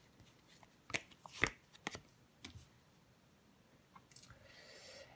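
Tarot cards handled and laid down on a table: a few sharp, brief slaps and flicks as cards are placed, scattered across a quiet moment, with a soft rustle near the end.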